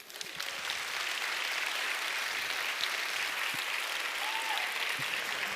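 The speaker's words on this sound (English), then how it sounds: "You can applaud" An audience applauds steadily at the end of a mathematics talk, dense continuous clapping from a large crowd that swells in quickly and holds.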